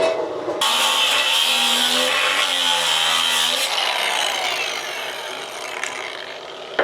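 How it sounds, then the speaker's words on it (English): Cutoff disc grinding through the metal of a Comanche bumper, a loud harsh continuous scraping whine close by that eases off partway and then trails away into a quieter hiss. "Opted for the cutoff disc."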